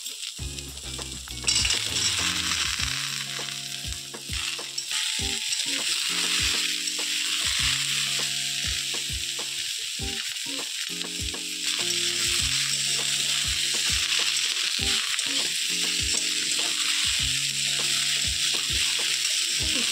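Pumpkin being stirred in a pan of frying potato and pointed gourd, a steady loud sizzle broken by regular metal spatula knocks and scrapes every second or so, with no talking.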